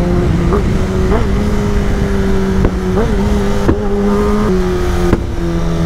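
A Kawasaki ZX-10R motorcycle engine drones loud and close at a steady pitch, broken by several short rises as the throttle is blipped.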